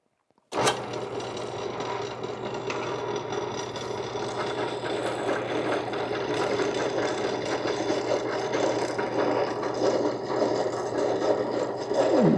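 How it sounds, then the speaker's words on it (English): A hand file rasps steadily against brass tubing on a wooden pen adapter for a Cross pen refill, held tight against a washer to cut a sharp shoulder; continuous, close scraping strokes last throughout. "keeping constant pressure up against this washer underneath it here, and the file against the brass tubing here"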